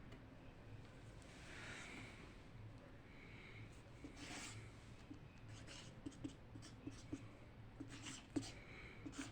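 A pen scratching out the next line of a maths solution on paper, soft continuous strokes with small taps, faint and close over a low steady background hum, no voices.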